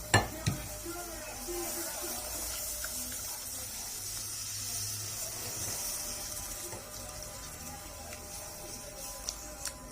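Béchamel sauce being stirred in a pan as milk is added gradually, a steady soft sizzling hiss with faint scraping throughout, a few louder clinks at the start and end.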